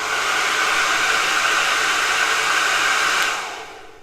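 A hair dryer fitted with a styling nozzle blows hot air in a steady, loud, close whoosh that fades slightly at the end.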